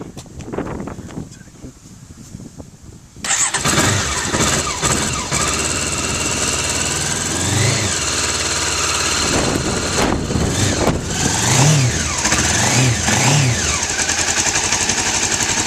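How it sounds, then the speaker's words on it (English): A motorcycle engine cranks and catches after a few quiet seconds, then settles into a steady, loud idle with occasional small revs. "I'll just move around and start the bike."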